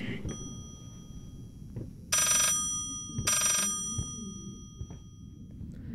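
A telephone rings twice in the Layers of Fear video game, two loud, bright electronic bursts about a second apart over a low ambient rumble.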